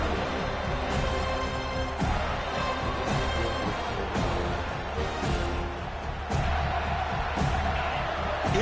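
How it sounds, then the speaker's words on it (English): Dense crowd noise fills a football stadium during an LSU game, a loud sustained roar with swelling cheers and periodic sharp thumps and claps throughout. "this crowd is fired up. Listen to this noise here."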